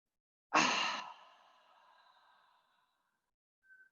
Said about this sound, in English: we're going to breathe in through the nose. Breathe in and hold.